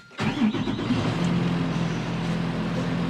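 A school bus engine cranks and catches in Alaska, then settles into a steady, loud, low idle close by.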